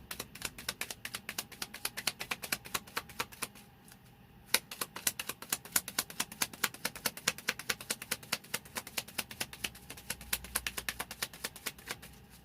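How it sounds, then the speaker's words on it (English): Tarot cards being shuffled by hand close by, giving a fast, regular run of light crisp clicks that pauses briefly and then resumes, faint overall with no talking. "I hope you guys can hear me over the shuffling."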